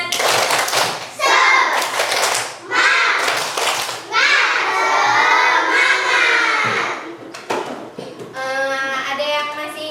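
Children perform a tepuk semangat clapping chant in a classroom, chanting loudly with bursts of rhythmic hand claps and pauses, close and lively.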